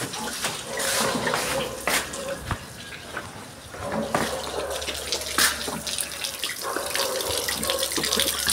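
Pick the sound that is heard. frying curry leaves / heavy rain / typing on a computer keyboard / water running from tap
water running from tap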